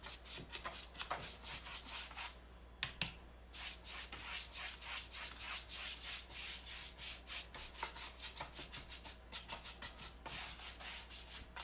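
A brush rubs dry white paint onto a wooden Christmas craft in quick, steady back-and-forth strokes, close and soft, over a low constant hum, with a couple of brief knocks partway through.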